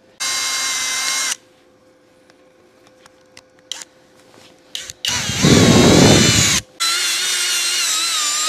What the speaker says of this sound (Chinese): 我给取下我的电钻先上上，看看它转出来是转一下是什么样子